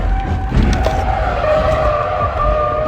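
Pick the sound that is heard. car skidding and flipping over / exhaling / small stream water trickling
car skidding and flipping over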